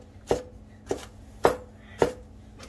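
Strong onions chopped with a knife on a board, four sharp, evenly spaced chops about half a second apart, close and distinct over a quiet background.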